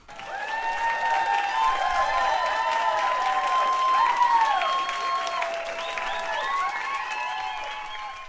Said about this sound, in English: Can we give a huge round of applause to Mr. Galbraith, please?